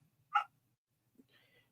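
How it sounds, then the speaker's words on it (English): Lola the dog lets out one short, sharp bark at a distance, then a faint whine-like yip follows over a low background hum. "And now Lola's barking"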